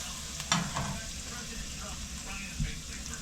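Texas-style Frito pie chili mixture fries in a pan with a soft continuous sizzle and a couple of brief stirring knocks, with no talking.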